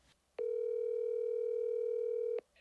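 A single steady telephone tone sounds for about two seconds while a call connects, clear and alone against a quiet background.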